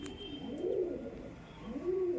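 A Tippler male and a Malbahi female pigeon coo nearby, two distinct swelling low coos with a pause between, over faint room noise and no talking.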